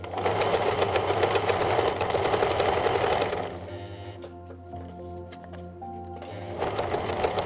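A sewing machine stitches a cutlery roll-up pouch with a fast, loud mechanical whir, slows to a softer rhythmic chug while the work pivots at a corner, then speeds up again.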